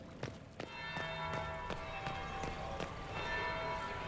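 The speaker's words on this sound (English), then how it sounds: "That's the bell." A bell tolls in the Dragon Age Inquisition video game, ringing repeatedly with lingering tones over footsteps and ambient game sound, with no talking.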